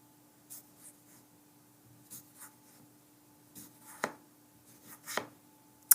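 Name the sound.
knife slicing potatoes for Hasselback potatoes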